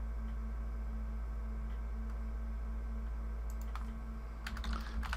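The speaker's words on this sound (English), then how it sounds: "We just type download Nessus." Typing on a computer keyboard during software setup on Kali Linux, heard as faint, sparse clicks over a low steady hum, with a quicker burst of keystrokes near the end.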